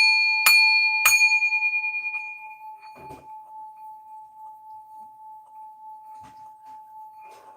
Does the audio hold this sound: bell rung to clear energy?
yes